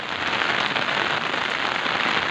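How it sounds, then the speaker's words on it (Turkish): Heavy rain pours steadily and loudly in a village in Diyarbakır's Çüngüş district, a dense, even hiss of drops striking surfaces with no voices. "Evet, çok güzel yağmur yağıyor arkadaşlar."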